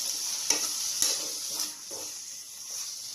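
A spoon mixes a sisig talong mixture of eggplant with calamansi juice in a hot pan, giving a bright, close sizzle punctuated by several sharp stirring scrapes about half a second apart.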